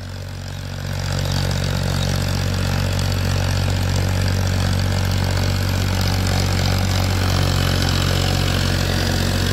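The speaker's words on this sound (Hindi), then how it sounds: "देखो कितना शानदार खेच रहा है ट्रैक्टर" A heavy tractor engine pulling a tiller through a field drones steadily and loudly at low pitch, holding an even, laboring rumble throughout with no voices.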